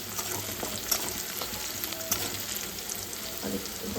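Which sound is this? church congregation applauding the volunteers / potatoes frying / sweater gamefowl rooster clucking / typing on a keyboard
potatoes frying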